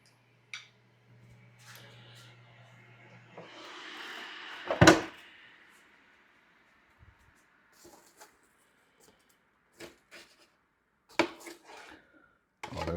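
A kitchen drawer slides open with a rattling scrape and a utensil clatters as a spatula is pulled out, followed by scattered light clicks and knocks in a quiet room.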